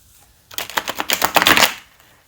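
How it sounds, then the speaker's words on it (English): A deck of playing cards being shuffled in a quick riffle, a rapid burst of crisp flutters lasting about a second and a half, close and fairly loud, with quiet before and after. "I did not shuffle this really like fancy."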